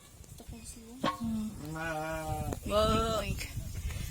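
Sheep at a farm in Bohol give two drawn-out, wavering bleats close by, with faint clatter and background noise around them.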